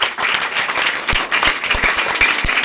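An audience at a Teachers' Day school function applauds after a patriotic song, a steady, dense clapping that stays loud throughout with no talk over it.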